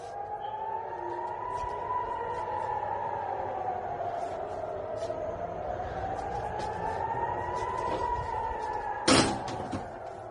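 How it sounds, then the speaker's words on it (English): An air raid siren in Israel wails, rising and falling slowly and continuously, somewhat distant, with a brief sharp knock or bang near the end. "The sirens continuing to go off."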